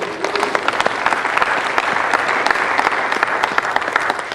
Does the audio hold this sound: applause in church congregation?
yes